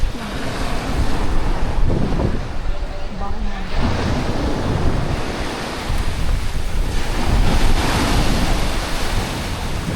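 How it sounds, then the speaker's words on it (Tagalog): Sea waves wash onto a beach under steady gusting wind, a loud continuous roar with swells rising and falling, while people chat faintly nearby. "Ganda ng dagat."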